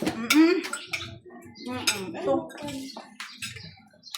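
Plates, pots and cutlery clink and clatter in a series of close, sharp knocks during a large communal neighborhood meal, with voices talking over them.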